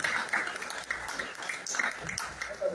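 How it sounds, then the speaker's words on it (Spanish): Audience applause at a rock talk during a writers' gathering in San Juan del Río, a short burst of scattered, fairly faint clapping from a small crowd. "Un aplauso."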